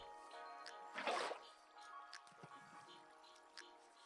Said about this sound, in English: Oh my god, so much water.